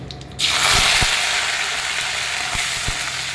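Curry leaves dropped into hot oil already crackling with mustard seeds and cumin burst into a loud, steady sizzle, with a few sharp pops and clicks of seeds spattering close by.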